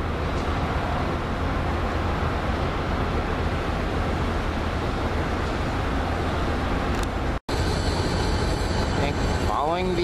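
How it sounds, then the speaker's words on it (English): An Amtrak Keystone train led by an AEM7 DC electric locomotive rolls past, a loud continuous rumble of wheels and cars that cuts off briefly near the end before resuming with some higher squeals. "following the NJT train in is a Keystone with AEM7 DC number 915 on the point"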